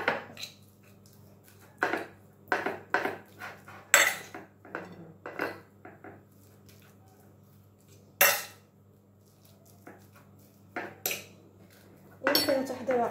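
Potatoes stirred in a bowl with a utensil, giving a series of sharp clinks and scrapes in irregular rhythm against a quiet background.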